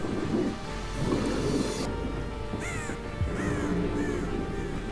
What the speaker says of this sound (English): Unless that was me that just disturbed this army of crows.